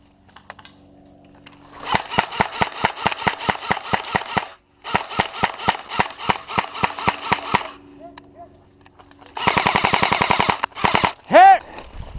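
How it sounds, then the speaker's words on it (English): Airsoft guns firing at Midland Field in rapid bursts of sharp, close clacking shots, several long automatic strings separated by short pauses, with a brief whistling sound near the end. "Shoot, Spencer, your gun sucks."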